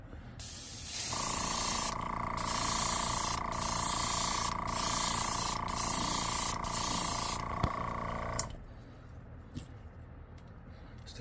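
Airbrush sprays paint onto the side of an X-Rap Smokey Shad fishing lure, a loud continuous hiss lasting about seven seconds with brief regular dips, then stopping abruptly into quiet room noise.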